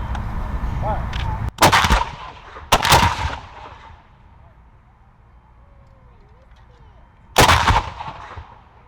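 Cannon of an artillery battery firing at a Battle of Lake Erie commemoration, three loud booming blasts with rolling echo, two close together near the start and one several seconds later, faint ambience between.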